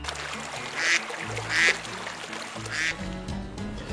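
A duck quacks three times in loud, nasal bursts spaced about a second apart, close and alone over faint background noise.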